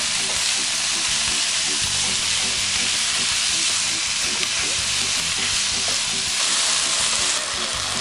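Beef frying in a pan with garlic and onion, a loud continuous sizzle with scraping from repeated stirring, close and steady, with no voices.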